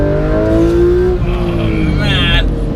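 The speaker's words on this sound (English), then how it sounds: "Oh man, listen to that engine." A Porsche's engine revs hard in GTA 5 on a racing circuit, with a steady loud drone and shifting pitch that climbs near the end, and a voice talking over it.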